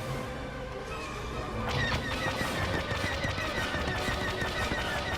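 Video game gunfire rattles in rapid repeated shots under a dense, busy background, steady and fairly close with no voices.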